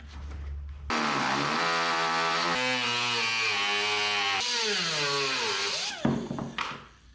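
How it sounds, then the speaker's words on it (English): A die grinder whines up and runs steadily at high speed, loud and close, its pitch shifting as it bites into metal on a tow vehicle's bumper, then spins down near the end. "Our die grinder happens to be sitting here."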